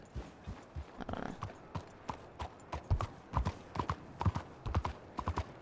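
Horse hooves clip-clop steadily in a Red Dead Redemption roleplay game, an even, close trotting rhythm of sharp knocks with no voices.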